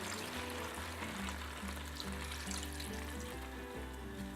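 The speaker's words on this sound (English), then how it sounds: "I'm adding 500 ml of beef stock" Beef stock poured into a French lamb casserole makes a close, steady liquid splashing and sizzling that runs the whole time, with a faint rhythmic pattern underneath.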